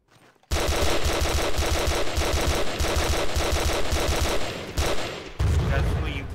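Rapid automatic gunfire with explosive rounds in a video game during an island assault from a rubber boat, loud and continuous bursts with brief dips near the end, followed by a heavier boom-like rumble.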